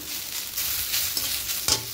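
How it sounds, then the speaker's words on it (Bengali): Broken wheat (dalia) is being stir-fried in a pan, with a few quick scraping strokes over a soft, close sizzle in a brief burst. "ঝরঝরে করে একদম ভাজা হয়ে গেছে ডালিয়াটা"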